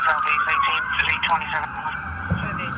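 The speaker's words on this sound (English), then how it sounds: "That's a county ambulance." County ambulance siren wails and sweeps as the vehicle passes close by, loud and falling in pitch, with a voice talking underneath.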